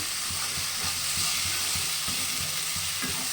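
An old-style mashed pumpkin dish fries in a wok under a loud, constant sizzle, with a spatula scraping the pan in steady repeated strokes close by.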